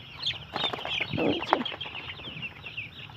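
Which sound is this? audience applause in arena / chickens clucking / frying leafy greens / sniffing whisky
chickens clucking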